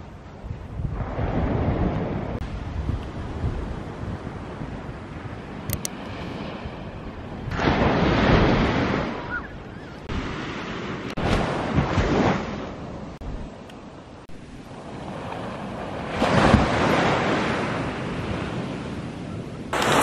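Waves crash and surge onto the shore at Silver Sands Bay in Fife, Scotland, arriving in loud repeated swells every few seconds with wind buffeting the microphone.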